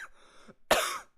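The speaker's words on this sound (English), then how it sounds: "I've been having a shit cough recently." A person gives a single sharp, harsh cough up close, a brief explosive burst with a short rasping tail, after a moment of quieter throat noise.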